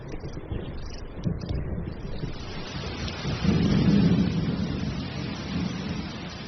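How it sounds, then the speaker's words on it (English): A thunderstorm in leopard country, with steady rain hissing on surfaces and low rolling thunder swelling partway through, the downpour continuous and moderately loud throughout. "Thunderstorms may be brief here, but they often presage long rainy spells."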